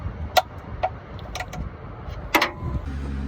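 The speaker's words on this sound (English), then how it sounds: "tighten the oil drain plug until you hear the torque wrench click" A torque wrench preset to 27 foot-pounds tightens the oil drain plug on a V6 Toyota Tacoma 4x4, giving a few sharp, close clicks spaced apart over a low background hum.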